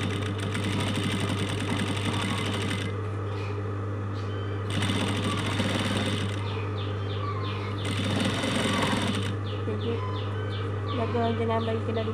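A sewing machine stitching a box-pleat curtain runs in a steady whirring rattle with brief pauses, over a constant low hum, close and fairly loud.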